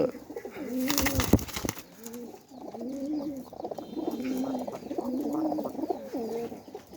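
Repeated soft, throaty cooing of a pigeon in short rolling phrases, close by, with a brief burst of rustling or flapping early on.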